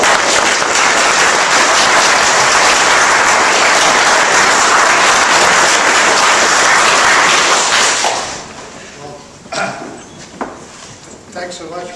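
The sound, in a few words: audience applause welcoming Don Knuth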